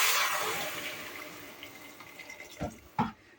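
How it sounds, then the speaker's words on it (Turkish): Boiled water from a kettle pours gradually onto fried tomato paste in a soup pot for ezogelin soup, a gushing stream that tapers off, followed by two short splashy pours. "Şimdi de aşama aşama suyumu ilave edeceğim."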